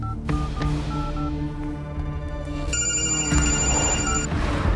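Telephone ringing on the line after a call is placed in a Hindi-dubbed film, a steady electronic ring tone with sustained tonal bursts over a low background hum, loud and close, with no voices.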